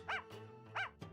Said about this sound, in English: Bark for me, dog.